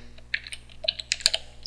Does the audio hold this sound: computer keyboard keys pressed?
yes